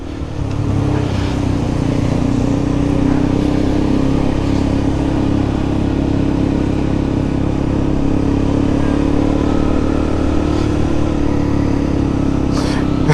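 A KTM Duke 200 motorcycle with a modified exhaust rumbles loudly and continuously, its engine note droning steadily throughout with slight rises in pitch.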